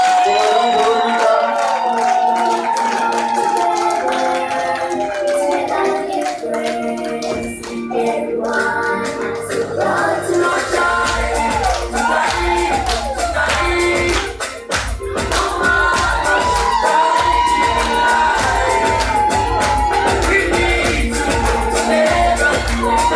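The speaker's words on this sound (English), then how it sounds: "Round of applause for Madam Veronica." Audience applauding at a live children's hospital event for a guest named Madam Veronica, steady clapping from a crowd across the whole stretch with music or voices mixed underneath.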